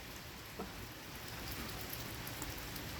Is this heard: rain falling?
yes